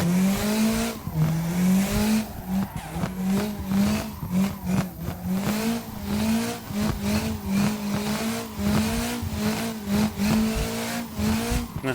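A car drifts in CarX Drift Racing, its engine revving and dipping in a steady rhythm as the throttle is modulated, with loud tire squeal sustained through the slides.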